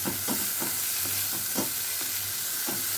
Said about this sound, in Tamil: வெங்காயம் கொஞ்சம் சுருளை வதங்கட்டும்.